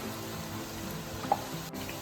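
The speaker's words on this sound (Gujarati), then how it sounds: "આપણે કેરાની વેફર પાડી હોય ને એટલે પછી તરત જ આપણે ફેરવી નાખવાની આ રીતે" Raw banana wafers frying in hot oil as they are stirred, a quiet, steady sizzle with a single brief clink, heard alone and close for a couple of seconds.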